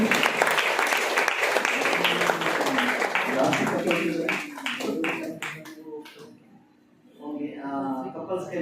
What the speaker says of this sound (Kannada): ಅವ್ರಿಗೂ ಜೋರಾಗಿ ಚಪ್ಪಾಳೆ ಬರಲಿ.